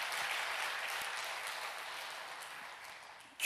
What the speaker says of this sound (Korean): 영광의 박수를 올립시다